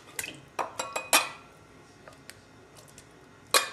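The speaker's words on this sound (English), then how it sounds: "So now I'm going to dump my can into this" Canned salmon dumped from its can into a bowl in a home kitchen: a handful of sharp metallic clinks and taps of can against bowl, spaced irregularly, close and fairly quiet, with no talking.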